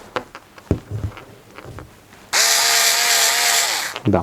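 An Intertool WT-0300 cordless screwdriver with a cutting attachment runs in a steady whine for about two seconds while slicing soft, unstretched fabric, after some handling clatter, then winds down.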